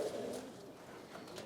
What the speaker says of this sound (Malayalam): ആ പ്രാവുകളൊക്കെ ഒന്ന് നമുക്ക് അതിന് കാണിച്ചു തരാം